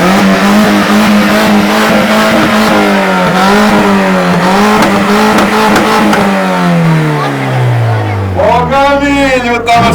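Car with a 1.6-litre engine revving through its exhaust at a sound contest, repeated rising and falling revs ending in a long drop and a final sharp blip, loud and close.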